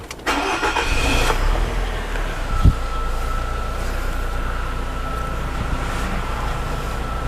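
A 2007 Nissan Serena C24 with automatic transmission cranks and starts, then settles into a steady idle hum with a brief knock partway through.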